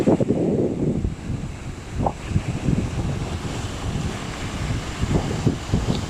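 Stronger sea waves roll onto a sandy beach, a continuous close surge and wash of surf with gusty wind rumble on the microphone and a few brief surges along the way.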